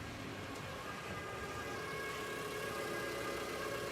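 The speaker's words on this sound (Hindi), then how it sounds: "अनिका के जवाब देने से ठीक पहले एम्बुलेंस होटल पहुंच गई" An ambulance siren sounds effect as the vehicle arrives at a hotel, a steady wailing tone over a rumbling engine, continuous and moderately loud, with no voices.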